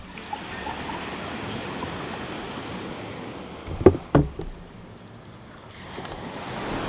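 Ocean waves wash steadily onto a beach in a broad, constant rush, with a couple of sharp knocks near the middle and no talking.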